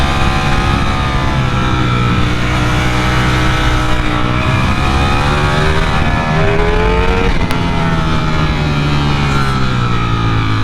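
A Ducati Streetfighter V4 motorcycle engine revs loudly and continuously while being ridden, its pitch rising and falling through gear changes and downshifts, close and alone without talk.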